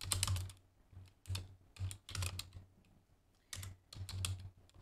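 Someone types with long nails on a computer keyboard: close, clicky tapping in short bursts separated by pauses, over a low steady hum.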